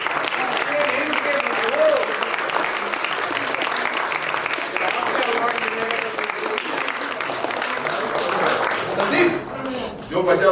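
Sustained audience applause at a theatre festival award ceremony, dense clapping filling the hall for about ten seconds before tapering, with a voice speaking near the end.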